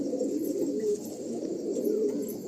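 Inside a pigeon loft holding Andhra pigeons, birds including a Fulsira male coo in a soft, continuous low burble, close by and unbroken for the couple of seconds heard.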